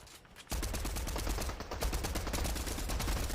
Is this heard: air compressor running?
no